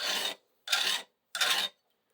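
A file rasps across the end of a metal lamp pipe as it is rolled to cut a bevel: three short, close scraping strokes with clean pauses between, no talking.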